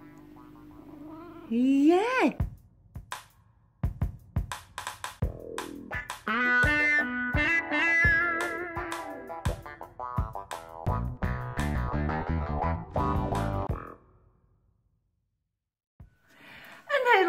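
A cat meows several times indoors, drawn-out tonal cries and short chirps spread across the stretch, with a person briefly speaking nearby and a quiet pause near the end.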